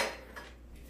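Flour, sugar, baking powder and salt are dumped into a mixing bowl for sweet potato biscuits, making a single short, soft rushing thud up close that quickly fades to quiet.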